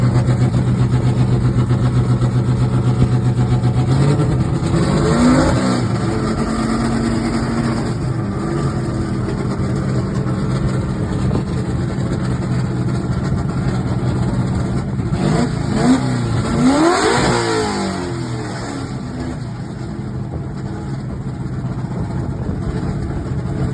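A truck engine idles steadily, then revs up twice in rising roars that fall back to a low rumble, close by with no talking.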